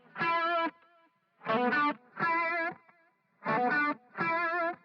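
Distorted electric guitar with an EQ cut applied in Ableton plays five separate sustained chord bursts, each about half a second to a second long, evenly spaced with silent gaps, close and fairly loud.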